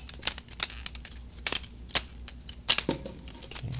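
Plastic parts of a Transformers Universe Overload toy snap and click as they fold into place, a series of sharp, close, irregular clicks with a short rubbing scrape near the end.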